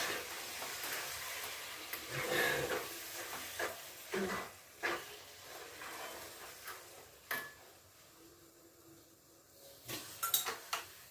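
Mussels (kallummakkaya) being stirred as they roast in a pan, with scraping, clinking utensil strokes against the pan over a low sizzle, intermittent and close.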